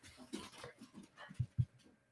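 A dog whimpers and pants softly in a courtroom, faint breathy huffs ending in a couple of sharper little whines.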